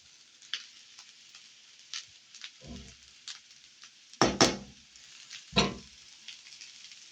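A spoon stirs vegetable biryani, freshly topped with coriander leaves, as it sizzles in a pan. A steady low fry runs throughout, broken by a few louder scraping bursts from the stirring.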